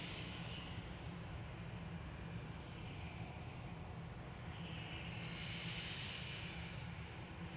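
An easyJet airliner departing Manchester Airport, a faint, distant, steady jet rumble with a gentle whine that rises and falls, heard without any voices.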